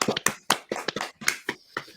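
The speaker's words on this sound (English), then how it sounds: "Round of applause to the GOAT." A small group clapping for a football moment, Messi winning the World Cup, close and loud, with scattered uneven claps and bursts over two seconds.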